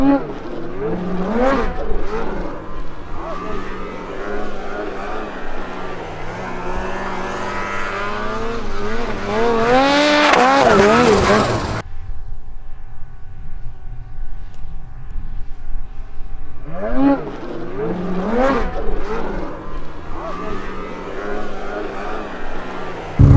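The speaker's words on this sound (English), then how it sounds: "make some turbo sounds, dude." Polaris RMK Matryx Boost turbo snowmobile engine from 2022, revving loudly with rising, sweeping turbo whine, then dropping to a steady idle drone before revving up again.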